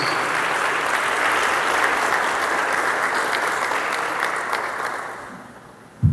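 After a prayer at a Bible class gathering, the congregation breaks into sustained, dense applause that stays full for about five seconds before tapering off, ending in a sudden knock.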